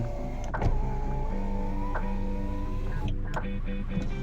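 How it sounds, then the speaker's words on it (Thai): A car's right-side power window hums as it moves, a steady whirring motor with a few clicks, heard close up inside a quiet cabin. "เทสกระจกนะครับกระจกขวาครับผม"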